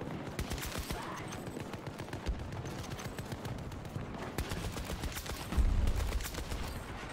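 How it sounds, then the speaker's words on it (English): Rapid automatic fire from a sentry gun in the video game Battlefield 2042, a steady fast rattle of shots running throughout with a heavier burst near the end, no talking over it. "Oh, it's a sentry gun."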